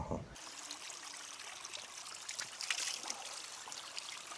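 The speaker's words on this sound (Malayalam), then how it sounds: "ഈ മലയിൽ നിന്ന് ഇങ്ങനെ ഒഴുകി വരുന്ന വെള്ളം" Rainwater flows down a hillside beside a cardamom plantation after rain, a steady, close rushing trickle with small surges that runs continuously throughout.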